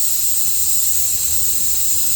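Steady, loud hiss of a steam wand on a Cimbali M20 Junior espresso machine, running constantly and alone with no breaks.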